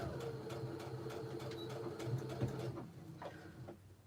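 A Juki sewing machine stitches a seam on a reversible tote bag, its rapid rhythmic needle clatter running close and steady before slowing and stopping near the end.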